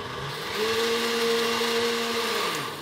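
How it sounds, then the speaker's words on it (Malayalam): An electric mixer grinder whirs steadily as it grinds coconut and rice flour with water into a smooth neer dosa batter, the motor pitch rising and holding briefly without any talk. "ഇനി മിക്സിയുടെ ജാറടച്ച ശേഷം ഇത് നന്നായിട്ടരച്ച് നല്ലൊരു സ്മൂത്ത് പേസ്റ്റാക്കി എടുക്കണം."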